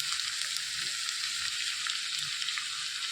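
A masala curry for a drumstick dish sizzles and fries steadily in a pan as tomato pieces go in, a close, even hiss with faint stirring knocks and no talk.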